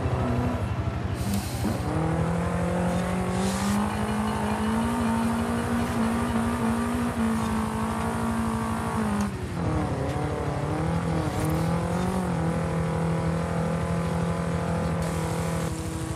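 A Fiat Abarth 131 rally car engine in a racing video game, droning loudly and continuously with rising and falling revs, a brief dip near nine seconds, then climbing again, alone without talk.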